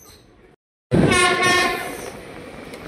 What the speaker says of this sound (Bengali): ওই যে ঢুকে গেল CSMT হাওড়া মেল। দেখো ঢুকে গেল টান ওই পাশ থেকে।